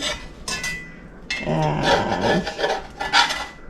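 Knife or spatula scraping and rasping against a pan while German pancakes are cut down the center, a run of close, gritty rubbing strokes with brief pauses, a single spoken word near the start.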